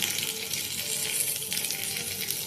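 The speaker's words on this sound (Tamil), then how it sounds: "இப்போ மோர் நம்ம மிக்ஸ் பண்ணி வச்சுருக்கோம்ல, அதை இதில் போய் ட்ரான்ஸ்ஃபர் பண்ணணும்" Spiced buttermilk is poured into a hot, sizzling tempering for mor kuzhambu, producing a continuous bright hiss and crackle of liquid meeting oil, moderately loud and close, with no talk.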